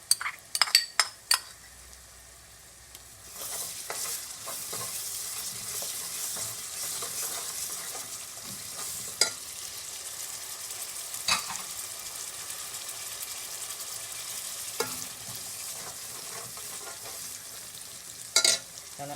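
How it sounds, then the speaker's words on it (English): Green seasoning going into a hot pot of Guyanese red snapper fish curry, stirred with a spoon against the pot over a steady close sizzle, with a few clinks near the start and end. "I'm going to add my green seasoning, a little green seasoning in there."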